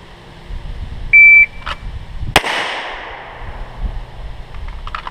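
A single sharp handgun shot cracks out once, loud and close, during a shooting drill with a draw from the holster; an electronic shot-timer beep sounds briefly before it, and the surroundings are otherwise quiet.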